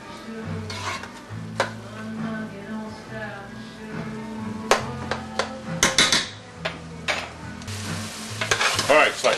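Browned sausage and hamburger meat sizzle in a pot while a utensil stirs and scrapes through it, with sharp clanks against the metal rising over a steady frying hiss.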